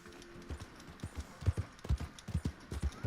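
Steady clip-clop of horse hooves at a walking pace in the video game Red Dead Online, close and fairly quiet, with no talking.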